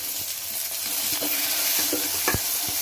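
Chopped small and large onions sizzle and sauté in a hot pan, a continuous close frying hiss broken by a few stirring scrapes and taps.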